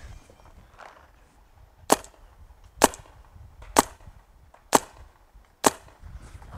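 A Smart Parts Shocker paintball marker with a TECHT Enertia bolt fires five sharp, close pops at an even pace, roughly one per second, with quiet gaps between.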